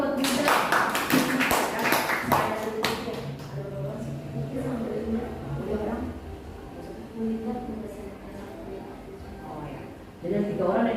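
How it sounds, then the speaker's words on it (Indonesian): An audience at a teacher training event in Ciracas claps in a burst of sharp, close hand claps that fades under a speaker's amplified voice as talking continues. "Tepuk tangan dulu buat Bu Ida."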